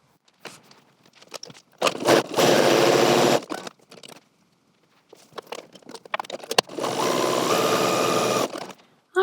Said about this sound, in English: So I'll also run a line of stay stitching through this deep V and on the armholes of this pattern piece as well